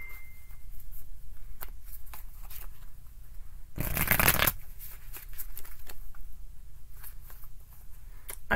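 Rapid riffling and soft slapping of tarot cards being shuffled, with a louder dense burst of riffling in the middle, close up and continuous.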